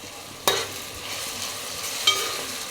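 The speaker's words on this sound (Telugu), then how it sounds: "చూడండి, ఉల్లిపాయలు అయితే వేగుతుంది కదా" Onions and green chillies fry in a pan for a Telugu gongura and raw prawn curry, giving a steady close sizzle broken by three sharp spoon-on-pan clinks.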